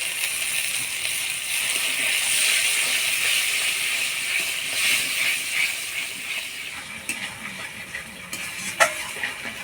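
Sour curd and water go into a hot pan of oily poppy-seed, cashew and melon-seed paste for doi potol, a pointed-gourd curry. A steady, close sizzling hiss follows, with a few light stirring clicks toward the end.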